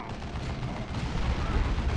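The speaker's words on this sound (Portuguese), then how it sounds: "E vou jogar a granada bem aqui." A grenade blast and gunfire in the Warhammer 40,000 Dawn of War II strategy game, heard as a dense, rumbling roar of battle with continuous explosive noise throughout.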